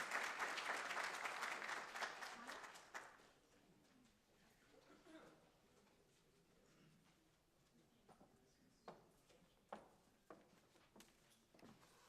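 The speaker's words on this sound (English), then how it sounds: "So please give a round of applause to hear from them" Audience applause at a food service graduation ceremony, a burst of clapping for about three seconds that drops away to a quiet room with a few isolated claps and knocks.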